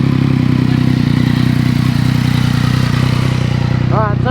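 A motorcycle engine is held flat against Woolich launch control, producing a loud, close, steady droning rev limiter sound that doesn't let up, with a rising tone appearing near the end.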